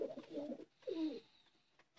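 A blue dumba Weshi pigeon of a Sialkoti breed gives two low, rolling coos in quick succession, close and clear against a quiet background.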